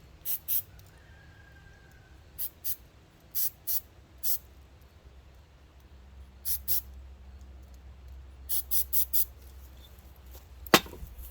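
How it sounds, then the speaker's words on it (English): Cleaner sprays in short, sharp hissing bursts onto Honda Rancher ATV carburetor parts, a dozen or so quick squirts in small clusters with pauses between, over a quiet background. "Let me spray this off camera and get it cleaned up."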